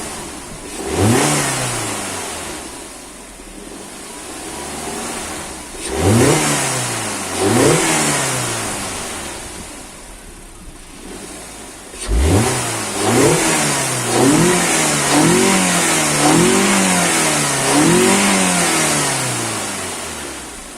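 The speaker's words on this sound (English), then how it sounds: "it is noticeably louder and there is a deep growl at higher revs" An Audi A3 2.0 FSI fitted with a cone air filter and an open airbox revs loudly and repeatedly, with a deep growl. Single blips come first, then a quick run of short rapid revs up close.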